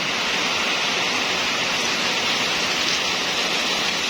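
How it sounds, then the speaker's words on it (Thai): Heavy rain pours down steadily near a Kubota tractor, a dense, even hiss of drops with no talk over it. "โอ้ฝนตกหนักเลยครับ"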